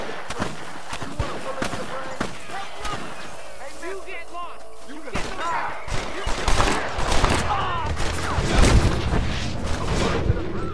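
Gunfire in the Western video game Red Dead Redemption: scattered sharp shots and cracks ring out in an irregular volley, growing busier and louder in the second half, with in-game voices talking over them.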